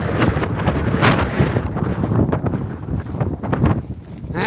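Strong wind roars across open water on a fishing outing in harsh conditions, loud gusty buffeting on the microphone that swells and dips continuously without a break.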